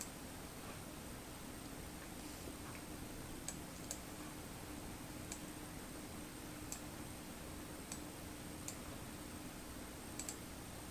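Computer mouse clicks sound sparsely, a handful of sharp, faint single and double clicks spread irregularly over a constant low hum and hiss.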